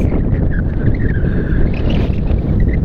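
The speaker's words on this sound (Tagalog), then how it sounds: "malalakas din ang alon" Strong waves and wind from Typhoon Bavi along the coast at Baler make a steady, loud roar of surf and gusting wind rumbling on without pause.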